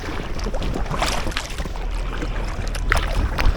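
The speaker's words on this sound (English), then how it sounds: "Bit of chop slap from that cruise ship." Choppy wake from a passing cruise ship slaps against an Aquaglide Deschutes inflatable kayak on a river, with irregular close splashes and knocks over wind and water noise.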